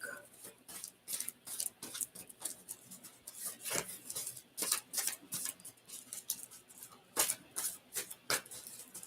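Soft, close shuffling of a deck of cards during an astrology reading, a series of brief riffling and rubbing bursts in irregular rhythm, quiet and alone.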